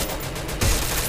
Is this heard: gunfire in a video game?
yes